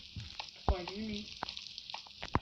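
Faint crackling sizzle with scattered pops of lava in Minecraft, under a brief murmur of voices.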